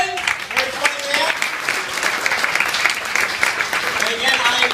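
Crowd clapping for the headliner comedian Duchaine at a comedy club show, steady dense applause throughout with a host's voice briefly heard over it near the start.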